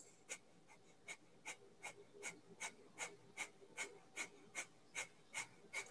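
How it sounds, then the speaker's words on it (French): Breath of fire breathing exercise: quiet, rapid forced exhalations through the nose, about fourteen short puffs in an even, steady rhythm, each close and crisp, with no talking. "la respiration de feu qui a l'air de ça"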